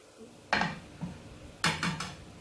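Utensils clink and scrape against a pan in two short bursts as fried idli pieces are lifted out of hot oil, close and fairly crisp, with a faint sizzle between the strokes and no talking.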